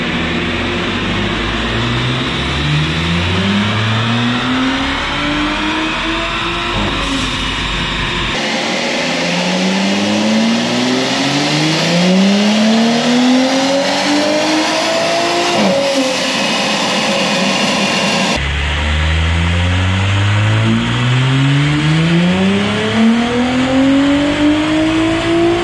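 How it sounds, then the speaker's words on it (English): A 2019-era Audi B9 S4 with an Integrated Engineering Stage 3+ TTE810 turbocharger is run on a Mustang chassis dyno, its engine loudly revving up through the gears in three long, rising full-throttle pulls, each ending with a sharp drop. "let us see what this thing can do in terms of torque and horsepower at the wheels on this Mustang uncorrected dyno"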